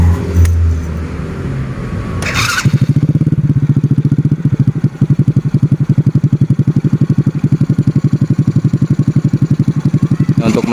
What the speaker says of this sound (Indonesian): Nah, sekarang kita coba hidupkan mesinnya dulu ya.